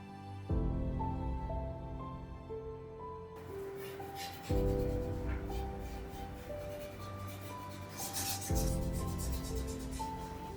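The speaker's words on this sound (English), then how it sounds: "Then I come back with the electric eraser and pull out some of the lighter areas and highlights." An electric eraser rubs across a charcoal drawing, its buzzing motor whine coming in three long bursts separated by brief restarts, close and fairly loud with no speech.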